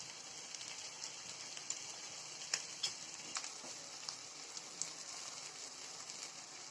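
Hilsa fish frying in a pan gives a steady, even sizzle and crackle, with a few sharper pops and spatters rising above the hiss. There is no talking.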